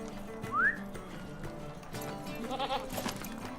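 A goat bleats in the fantasy game Lord of the Rings Online, with a short, rising nasal cry early on and a fainter call later over soft game ambience and light hoof-like clatter.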